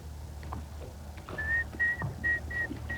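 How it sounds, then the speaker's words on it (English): A fishing rod line whistles across the water on a lake during a bass fishing tournament, in several short, thin, high tones repeating about every half second over a low background hum. "You see that rod line whistle across the water?"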